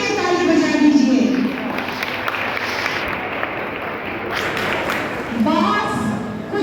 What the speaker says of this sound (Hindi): आप सबसे पहले अपने लिए ताली बजा दीजिए।